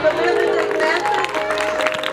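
A church congregation at a Christmas service breaks into a short burst of applause, a dense crowd of clapping hands that fills the space briefly and then thins out.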